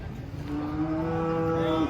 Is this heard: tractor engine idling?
no